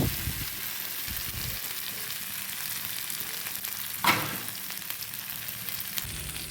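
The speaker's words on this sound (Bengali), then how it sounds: "সেই পনিরগুলো আমি মশলাতে দিয়ে দেব দিয়ে দেওয়ার পর আমি মশলাটা ও পনিরটা ভালো করে ভেজে নেব" Cubes of paneer frying in a spice masala in a pan for a kabuli chana paneer curry, giving a steady, even sizzle throughout with a brief louder burst partway through as the pieces are stirred.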